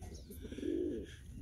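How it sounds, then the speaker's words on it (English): Young pigeons coo softly at a backyard loft, one low rounded coo swelling briefly in the middle against a quiet outdoor background. "I'm outside with my young birds."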